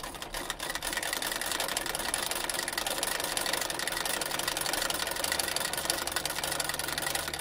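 A treadle sewing machine from 1871 stitching a seam: a steady, continuous rapid mechanical whirring and clatter, fairly quiet and close, with no talk.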